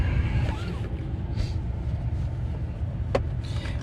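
A Duramax pickup truck drives off with a steady low engine rumble and road noise, close and continuous, with faint brief higher-pitched noises over it.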